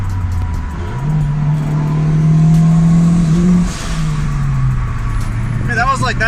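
A turbocharged Honda D16 engine revs up sharply, holds a loud, strained drone as it bounces off boost cut, then eases down to a steady idle, heard close.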